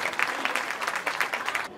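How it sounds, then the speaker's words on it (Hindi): An audience applauds at an award event at the Gangasagar Mela in Kolkata, brisk crowd clapping with rhythmic surges that cuts off abruptly at the end. "एक जोरदार ताली होनी चाहिए इन लोग के लिए।"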